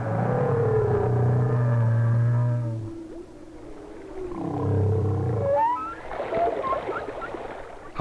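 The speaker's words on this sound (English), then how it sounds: "the songs carry a long way in water, and distant whales provide us with a background of almost continuous singing" Humpback whale song: long, loud, low moaning calls with harmonic tones, broken by a short pause, then rising squeaks and whistles, with distant whales singing faintly in the background.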